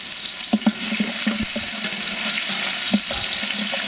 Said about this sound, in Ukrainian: коли звучить оцей звук із казанка, це вже говорить про те, що процес пішов